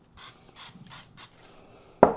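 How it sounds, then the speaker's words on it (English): Butter spray misted onto flatbread in four short, even hissing bursts with brief gaps between them, close and clear, followed by a sharp knock of the can. "I'm going to hit that just a light bit of this butter spray."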